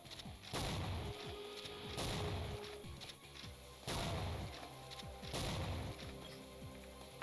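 Four heavy, booming shotgun blasts in the game Doom, about one and a half seconds apart, each followed by a rumbling decay and lighter clatter of monsters and effects between shots.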